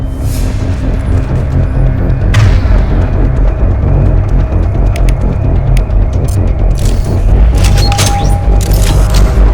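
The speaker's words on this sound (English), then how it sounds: "Use the grenade launcher to take them out." Grenade launcher rounds explode against mechs in Mass Effect 2. Loud, deep booms and blasts follow one another over a continuous rumbling din, with sharp cracks scattered throughout.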